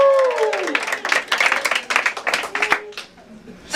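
A crowd applauds and cheers with dense, scattered clapping through most of the stretch, mixed with voices and a brief whoop near the start.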